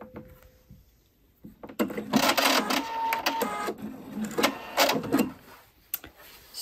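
Sewing machine stitching a cuff onto a shirt sleeve placket, quiet at first, then bursts of rapid mechanical stitching in short runs with brief pauses between them.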